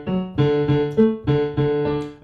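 Keyboard imitating the droning pattern of a Bach cello suite, a low sustained drone under repeated struck notes on D in a steady, rocking rhythm. Close and alone, about six attacks with no talking.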